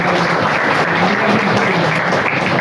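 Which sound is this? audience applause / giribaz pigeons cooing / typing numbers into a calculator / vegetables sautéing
audience applause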